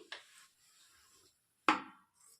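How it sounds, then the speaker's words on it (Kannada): Tailoring scissors snip through cloth twice, each cut a short crisp crunch close by, separated by a quiet pause, with no voices. "ಈಗ ನಾನು ಕ್ಲಾತ್ ಅನ್ನು ಸಹ ಕಟ್ ಮಾಡಿ ತೋರಿಸ್ತೀನಿ"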